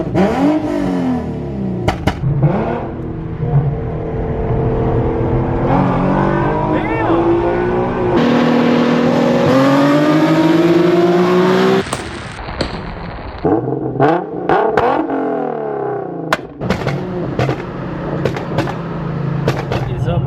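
An Infiniti Q50 drives along a road, its engine revving and rising in pitch through gears, loud and close with an interior hum, punctuated by sharp pops and clicks near the end, with no talk.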